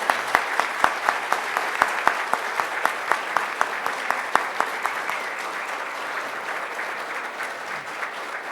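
A crowd at a public security honors ceremony applauds the award recipients, dense sustained clapping with a few sharp close claps standing out early, then settling into an even wash that slowly thins.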